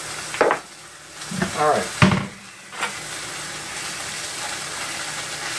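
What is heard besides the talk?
hot dogs frying in a pan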